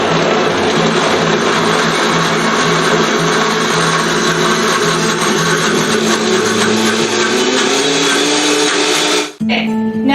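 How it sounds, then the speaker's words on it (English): A Vitamix blender runs continuously on low while blending thick fudge mixture, a loud, steady motor whine with a slowly rising pitch as the speed is gradually increased, then it cuts off abruptly at the end. "If you have a Vitamix, start on low and gradually go up."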